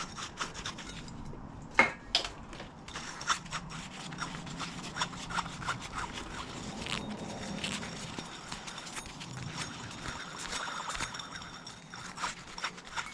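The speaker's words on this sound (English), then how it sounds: "I'm gonna try to get all the gunk out of here. Just using some carb cleaner." A pulley on a Husqvarna YTH2042 lawn tractor is scrubbed clean of gunk with carb cleaner, making continuous close rubbing and scraping strokes with occasional knocks and clicks.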